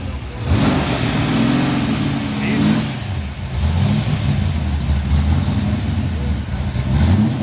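A 1965 Plymouth Belvedere 426 HEMI Super Stock race car engine revs close by with a loud, rough, continuous roar, easing briefly midway before surging again, with faint voices nearby.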